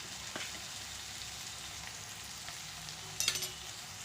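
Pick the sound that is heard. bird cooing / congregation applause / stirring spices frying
stirring spices frying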